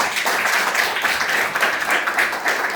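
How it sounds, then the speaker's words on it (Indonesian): Steady applause from a crowd, dense clapping filling the whole stretch at an even, sustained level. "tepuk tangan dulu Pak Sipura"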